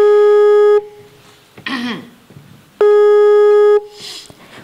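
Telephone call tone on a mobile phone's hands-free speaker: two loud one-second buzzing tones separated by a pause, with brief voices in between.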